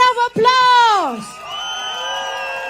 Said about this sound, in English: And now we like to invite all the great leaders here who will represent you in Parliament to come forward. Give them a round of applause.